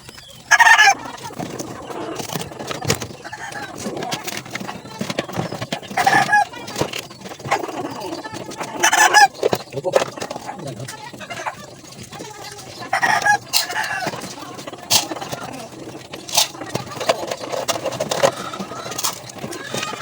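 Month-old chickens in a yard cluck and squawk continuously at close range during feeding, a busy flock with irregular loud bursts over a constant background of chatter.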